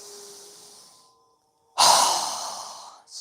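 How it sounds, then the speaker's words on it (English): During a yoga breathing exercise, a long deep inhale through the nose follows a quiet pause, close and breathy, then trails off with the start of another breath. "So go ahead and inhale."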